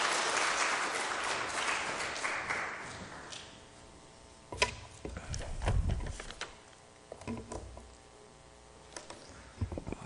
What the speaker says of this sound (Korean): 우리 목사님 큰 박수로 환영하며 환영하겠습니다